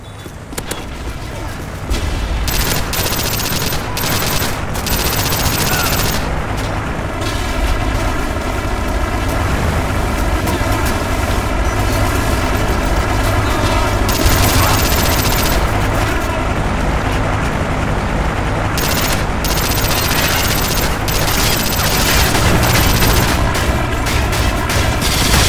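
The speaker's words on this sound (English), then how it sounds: "Strafe run incoming." Strafe run gunfire in Modern Warfare 3 on the Wii: sustained rapid bursts and booming impacts roll on continuously and loudly, with a player's voice talking over the barrage.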